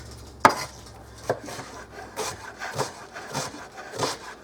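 Knife slicing cabbage thinly on a cutting board for corned beef and cabbage soup, a sharp first cut followed by several softer, evenly spaced crunchy strokes, close and without talk.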